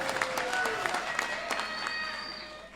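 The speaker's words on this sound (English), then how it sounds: "May we give him another round of applause." Graduation audience at a university ceremony applauding, a dense wash of many hands clapping at moderate distance, steady and then gently fading.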